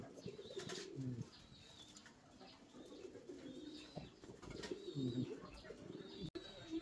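Fancy pigeons coo in low, throaty rolling bursts, several birds close by, with occasional wing flaps and faint chirps over steady background noise.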